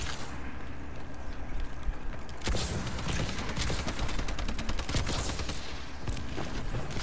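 Gunfire in Call of Duty Advanced Warfare: a dense, continuous rattle of rapid automatic shots, loud and close throughout, with sharper clustered cracks after the first couple of seconds.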